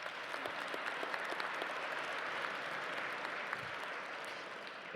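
Sustained audience clapping fills a gala hall, an even, continuous patter of many hands at moderate distance with no voices over it.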